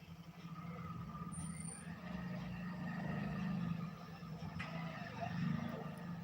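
Trucks and other vehicles pass by at night near a fair, giving a steady, faint low rumble that swells and fades slightly, with a brief high hiss partway through.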